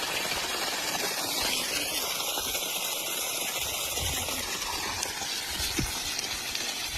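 A 6 HP solar water pump motor drones continuously with a faint mechanical rattle underneath, no speech, holding an even level throughout.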